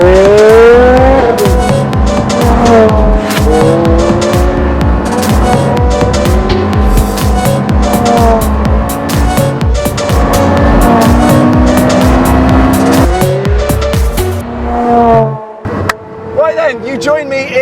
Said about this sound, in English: You join me in the Carrera GT, and more specifically, third to fourth here on an empty track